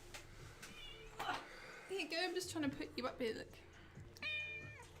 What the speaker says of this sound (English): He normally doesn't meow.